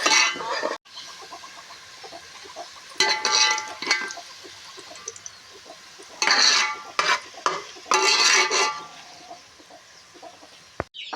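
Onions frying in oil until reddish-brown for dum biryani, a steady crackling sizzle broken by louder bursts of stirring and clatter, close up, with no talking.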